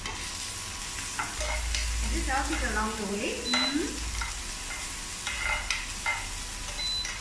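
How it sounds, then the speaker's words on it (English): Onion, dry chili and curry sizzle and pop in a hot frying pan, with a steady frying hiss and some stirring scrapes. A person talks quietly over the cooking. "It does sizzle and pop and crack all over the plate"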